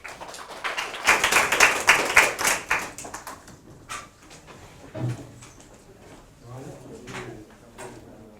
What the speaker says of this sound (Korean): 자, 우리 첫 번째 팀 큐 박수 한번 쳐주세요.